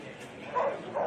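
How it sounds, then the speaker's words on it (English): A dog gives two short barks on the sideline of a local rugby league match, fairly near and over a soft crowd background. "There's that dog again."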